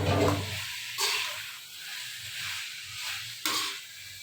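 Water poured and splashing over raw chicken as it is cleaned, a few sloshing bursts of pouring and spilling, close and moderately loud, with no speech.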